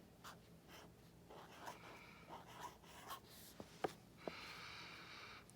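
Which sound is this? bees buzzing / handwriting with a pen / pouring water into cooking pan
handwriting with a pen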